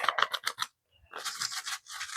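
Soil containing soil mites being mixed and agitated inside a bag, heard as close, brief scratchy rustling bursts separated by a short quiet gap.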